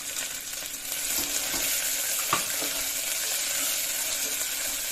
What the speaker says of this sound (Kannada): ಅಲ್ಲಿ ತನಕ ಫ್ರೈ ಮಾಡ್ಕೊಳ್ಳಿ ಹಸಿ ಬಟಾಣಿನ ಹಾಕೊಂಡ್ಬಿಡಿ